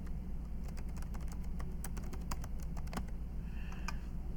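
Someone types a password on a computer keyboard, a steady run of light, quick key clicks over a faint, constant room hum.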